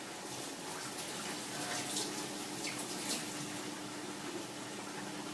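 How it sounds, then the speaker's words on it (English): Tap water runs steadily into a kitchen sink while a finger is washed under it, a continuous close splashing hiss with no pauses. "Wash my finger."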